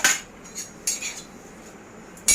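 Onion, garlic and ginger sauté in oil on a tawa while a utensil clinks against the metal pan a few times over a soft, steady background hiss.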